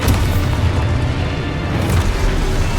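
A loud, sustained rumbling blast from an Expulso spell in Hogwarts Legacy, a heavy low boom filling the whole moment and swelling slightly near the end.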